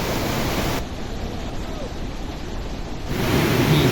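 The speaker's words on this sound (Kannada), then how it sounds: "ಈ ಜಲಪಾತದ ಬೋರ್ಗರಿತ ನೋಡಿ ಎಷ್ಟೊಂದು ಭೀಕರವಾಗಿದೆ." Bheemeshwara waterfall roars during heavy, continuous rain: a steady, loud, broadband rush of falling water that fills the clip without a break.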